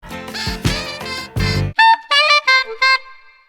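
A saxophone plays a short bluesy phrase: a few breathy, low, full notes, then a string of brighter, separated notes climbing higher.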